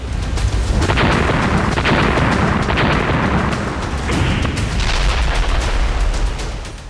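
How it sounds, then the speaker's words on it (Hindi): Israeli air strikes send out heavy, rumbling explosions, loud blasts that crack and roll one after another with barely a pause. "इजराइल का ताबड़तोड़ हवाई हमला"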